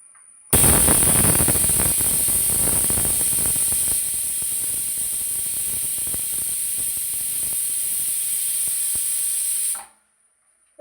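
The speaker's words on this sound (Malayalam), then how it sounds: "കുക്കർ വിസിൽ വന്നിട്ടുണ്ട്" A pressure cooker whistle: a loud, steady hissing whistle of steam jetting out for about nine seconds, then it cuts off abruptly into silence.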